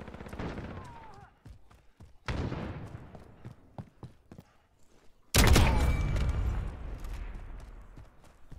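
Gunfire in Call of Duty Modern Warfare gameplay: rapid clusters of sharp close shots, several bursts over the span, ending in one heavy loud blast with a long ringing decay.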